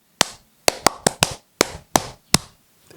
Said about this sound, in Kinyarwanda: reka ngiye muha amashyi